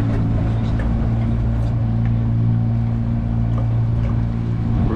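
A 2021 Seasport 26-foot boat's engine runs in reverse with a steady, loud, low droning hum that holds an even tone throughout, close by and continuous.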